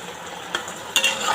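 Okra frying in a pan, a continuous hiss of hot oil with a couple of sharp stirring scrapes, close and fairly loud.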